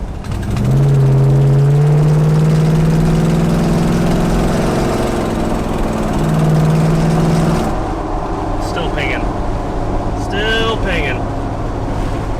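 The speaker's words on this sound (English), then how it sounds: "I think we need to do some carb work to this thing. Not very happy with it." A rough, uneven old 4x4 Cadillac engine with a poorly running carburettor drones loudly and steadily up close, its low tones wavering, with someone speaking briefly near the end.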